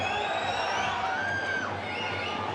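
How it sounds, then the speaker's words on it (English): Warrington rugby league crowd at a match against Castleford, a steady loud roar of voices with scattered shouts and whistles rising throughout, a sustained dense wash of jeering reaction. "Warrington crowd not too happy with that decision"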